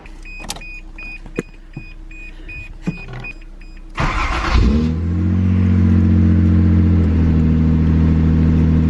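A 1985 Toyota Supra engine with a new starter turning over briefly, catching after a couple of cranks and settling into a loud steady idle, preceded by a few clicks and beeps.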